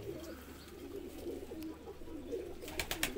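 Shirazi pigeons at a breeder's loft, soft low cooing close by, with a few brief chirps and rustles near the end.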